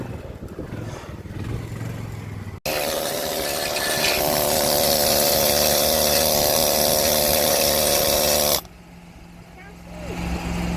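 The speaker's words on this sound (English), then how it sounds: "Bob's a big fan of the needle scaler, Cody." A needle scaler hammers away at welded steel plate on a center bushing repair, a loud, dense buzzing rattle that runs steadily for about six seconds, bracketed by quieter workshop background and talk before and after.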